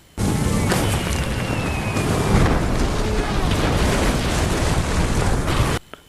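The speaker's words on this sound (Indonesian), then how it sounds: "terjadi sebuah ledakan" A loud, sustained rumbling blast from an explosion at a training site in the 2004 film Fighter in the Wind fills the clip, a dense roar that holds steady for several seconds before cutting off.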